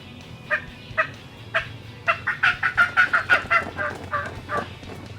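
Turkey fly-down cackle made on a call for wild turkey hunting, a few spaced clucks that speed into a rapid rhythmic run of cackles before tapering off, with a hat slapped to imitate wing flaps.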